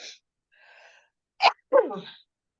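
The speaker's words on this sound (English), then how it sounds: "I'm going to sneeze." A person sneezes once, loud and close, after a short sharp intake of breath, followed by a brief trailing vocal exhale.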